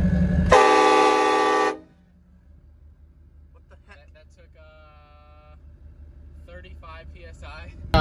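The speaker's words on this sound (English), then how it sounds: "Nathan Air Chime K6 from Real Train Horns, so that's actually off a locomotive" A loud, sustained multi-tone Nathan Airchime K6 locomotive air horn blasts for about a second, then cuts off, leaving low rumble and scattered voices.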